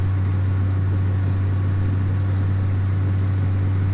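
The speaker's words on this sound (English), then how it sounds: "If you had the trim set properly, the plane will take off when it reaches a proper speed." A propeller plane in Flight Simulator X accelerates down the runway for takeoff, its engine a loud, constant low drone with a steady hum and no talk over it.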